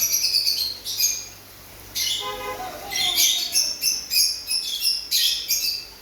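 Bright, high chirps and harsh squawks from small parrots, bursting repeatedly at close range, with a brief lull near the middle.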